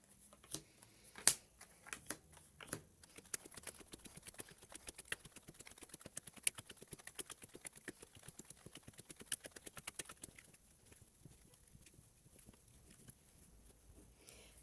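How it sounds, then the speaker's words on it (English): Dungeon deck cards from a tabletop board game dealt out one at a time onto a table, making a long run of quick, light, crisp ticks that thin out toward the end, heard close and alone. "you take your dungeon deck, and starting anywhere, you start dealing them out clockwise"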